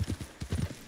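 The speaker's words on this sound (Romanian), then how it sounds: "Ne suim pe munte cu calul" In the Red Dead Redemption 2 video game, a horse's hooves clip-clop briskly in a short run of even beats while it climbs a mountain, heard close and clear.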